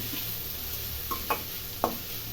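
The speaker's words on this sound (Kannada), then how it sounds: "ಒಂದು ಎರಡು ನಿಮಿಷ ಫ್ರೈ ಮಾಡಬೇಕು" Two onions frying in a pan for vangi bath: a faint, steady sizzle with a few brief spatula scrapes and taps against the pan, quiet and close.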